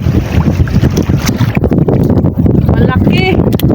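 Steady, loud wind buffeting the microphone outdoors on a seashore during the Amihan northeast monsoon, with a few faint high chirpy sounds near the end.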